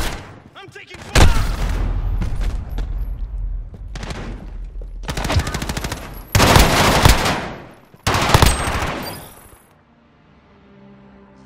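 Automatic gunfire in the video game Modern Warfare comes in repeated close, loud bursts of rapid shots, separated by short pauses, with voice callouts mixed in before a quieter tail.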